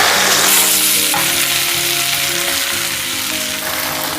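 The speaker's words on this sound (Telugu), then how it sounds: "ఆయిల్ వేడైందండి. ఇప్పుడు మనం ఆకేసేద్దాం," Gongura (sorrel) leaves sizzling and frying in hot oil for a pickle, a loud, steady crackle and hiss filling the whole stretch with faint stirring underneath and no talking.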